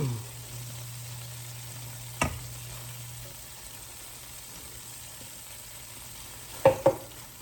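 Home-canned beans sizzle steadily in a frying pan, a quiet continuous fry with a low hum beneath and a few sharp clinks of a utensil against the pan near the start and end.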